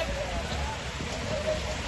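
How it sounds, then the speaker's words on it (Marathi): Heavy rain pours steadily with a dense, unbroken hiss that stays close and constant throughout. "लय पाऊस आहे, लय पाऊस"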